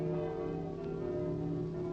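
Church bells peal continuously in a period drama setting, with steady ringing tones blending into a sustained, even wash of sound and no voices.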